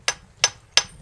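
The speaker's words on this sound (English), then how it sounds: "I used a hammer just to knock off the paint" A hammer strikes a boat keel at an angle to knock off old paint, three sharp, evenly spaced metallic knocks, close and crisp, with quiet pauses between blows.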